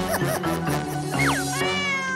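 A cat meows several times in a row, clear and close, with rising and falling cries, while a person pets and praises it.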